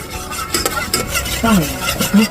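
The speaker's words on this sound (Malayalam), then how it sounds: "വെള്ളം ഒഴിച്ച് ജാഗരി പൗഡർ ഇടുന്നത് ഇളക്കുവാണ്" A spoon scrapes and clinks around a pot on a lit stove in quick, uneven strokes, close and fairly loud, with water swishing underneath as jaggery powder is stirred in.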